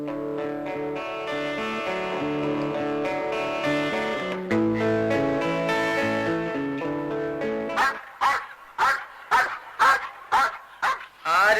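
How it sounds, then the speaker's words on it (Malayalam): Dog barking at a house in a Malayalam radio drama, a run of about eight sharp, loud barks in steady rhythm at the end, after a stretch of music. "അനങ്ങാതെ നിന്നോ, പട്ടി കടിക്കത്തില്ല."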